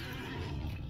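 A horse mount in a Lord of the Rings video game lets out a short whinny over a low rumbling game background, brief and moderately near.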